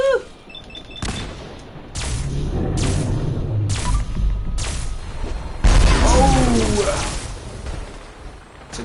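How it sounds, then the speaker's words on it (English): Grenade and gunfire blasts in Fallout 4 during a fight with a behemoth, several sharp booms and bursts spread across the clip, loud and close, with game effects and brief talk between them. "Throw a grenade at him"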